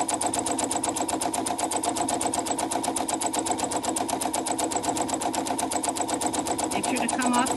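A sewing machine stitches a bee appliqué with a rapid, evenly pulsing mechanical chatter that runs continuously up close, while a person talks over it.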